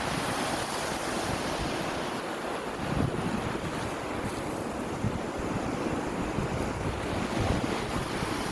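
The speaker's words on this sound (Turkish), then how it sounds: "Biraz dalga durursa biz de bugün denize gireceğiz." Sea waves wash steadily onto the shore on a windy morning, a continuous roar of surf with wind buffeting the microphone and no voices.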